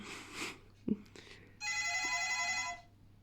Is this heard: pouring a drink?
no